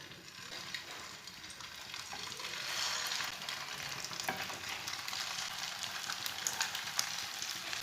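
Chicken seekh kebabs fry in a thin layer of hot oil in a pan, a soft, even crackling sizzle that swells gently and stays fairly quiet and steady, with occasional small pops and no speech.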